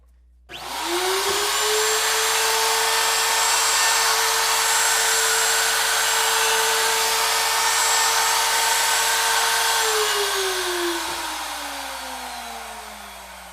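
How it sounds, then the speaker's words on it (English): A power sander works on a 5150 guitar replica body during rear cover recess work. The motor spins up quickly, holds a steady, loud whine for about ten seconds, then winds down alone. "we want to do a little bit of sanding"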